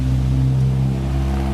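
A Harbor Freight 6.5 HP small engine with a replaced carburetor runs at close range, a loud steady low drone with slight swells in speed as it surges.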